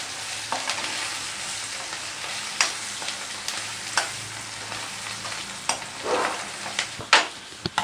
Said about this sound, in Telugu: మళ్ళీ కలుపుకోండి పసుపు వేసిన తర్వాత